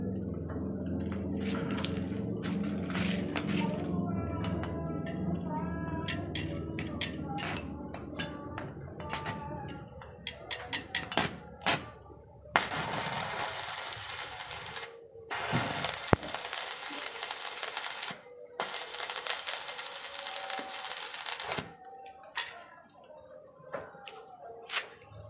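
Welding thin metal sheet with a transformer welder, a crackling, sizzling arc in several long bursts separated by brief pauses, close and fairly loud.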